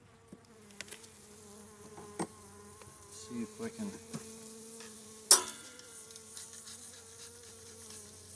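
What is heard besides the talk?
Carniolan honey bees buzzing in the hive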